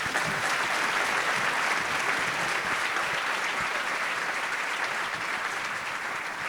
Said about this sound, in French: Merci de réserver vos applaudissements à Marie, qui est l'ébéniste de Nominoé